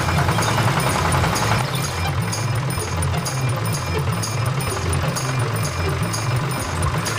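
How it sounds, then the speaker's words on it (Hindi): A cartoon tractor engine in a Hindi village story chugs steadily after starting, a loud, low, rhythmic pulsing rumble that repeats evenly throughout with no talk. "गबरू ने ट्रैक्टर पर बैठ उसमें लगी हुई चाबी घुमाई और ट्रैक्टर स्टार्ट हो गया"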